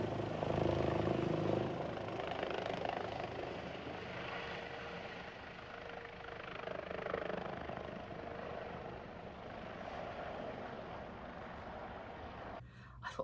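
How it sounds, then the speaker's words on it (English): Helicopter from a local electricity company hovering above a house, a steady rotor and engine drone heard from a distance, fairly faint but continuous, swelling slightly then easing off. "Oh, I think the helicopter's coming back."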